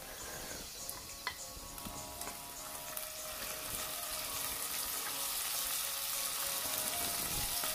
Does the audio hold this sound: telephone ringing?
no